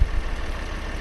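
In Farming Simulator 17, a dirty tractor's engine idles with a steady low rumble, close and continuous, with no talking.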